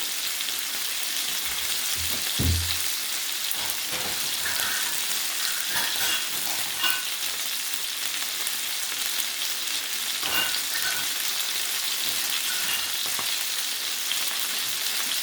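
Marsala wine hits a hot pan, setting off a loud, continuous sizzle that holds steady and close for the whole stretch, with a few soft utensil knocks and no voices.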